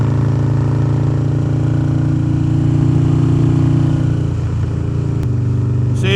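A custom Harley-Davidson Dyna Street Bob motorcycle engine runs loud and close, a deep steady rumble that eases in pitch partway through and settles to a lower throb near the end.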